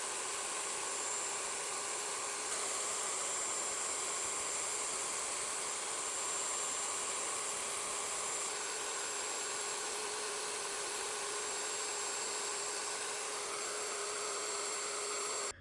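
A wood router, switched on with a foot pedal, cuts a carved wall picture with a steady high-pitched whine and airy hiss that hold unbroken throughout, fairly close and without talk.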